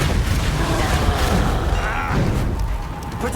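A booming magical Depulso blast from a Harry Potter video game, a dense continuous rumble with low thuds and crashing texture filling the moment, loud and close.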